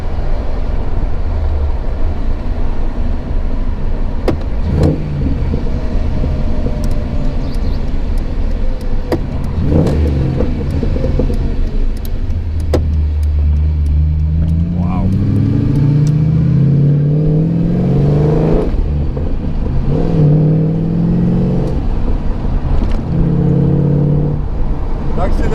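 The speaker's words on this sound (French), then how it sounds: "L'accélération jusqu'à 2500 tours, le ronronnement, génial." A Morgan Plus 8 engine rumbles close and loud, a deep throbbing idle that swells into a rising rev toward 2500 rpm, purring steadily with a few sharp clicks along the way.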